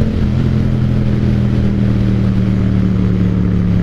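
A Yamaha MT-07 ABS motorcycle engine drones loudly and steadily while riding on a city road, a close, continuous mid-low engine hum with no pauses.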